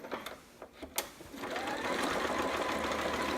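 Sewing machine running steadily as it stitches an unfamiliar, puckering fabric for a romper, starting with a few short bursts before settling into a continuous close hum.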